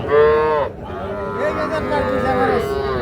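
A young calf at a rural cattle market lows loudly and close by: one drawn-out moo, a brief pause, then a longer wavering call.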